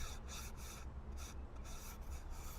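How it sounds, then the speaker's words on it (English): Hand sanding with a folded piece of sandpaper, a close, quiet, rhythmic back-and-forth rasping in steady strokes with brief pauses between them. "here's what you do to hand sand. You fold this piece of sandpaper,"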